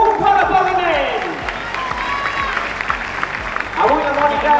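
Crowd applause fills a sports hall at a canoe slalom event in La Seu as a world silver medallist is honoured, steady clapping running under an announcer's voice that rises again near the end.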